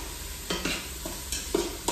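Chopped onions cook in a pan for a lentil and vegetable soup, giving a soft, steady sizzle broken by several brisk stirring scrapes, with no talking.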